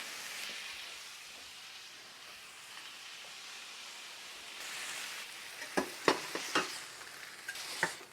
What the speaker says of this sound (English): You got to dry them off before you put them in the pan if you want that sear.